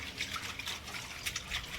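Water running and splashing into a freshly refilled tank outdoors, a steady soft trickle with small drips, fairly quiet and continuous.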